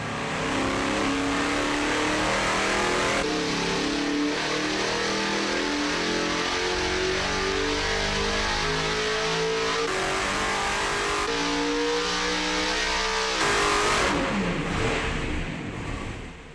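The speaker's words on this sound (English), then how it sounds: "we can simulate a load and a power pull on the dyno" A Camaro race engine revs hard under load on a dyno during a power pull, a loud, continuous roar with rising and falling pitch sweeps that holds throughout and swells near the end.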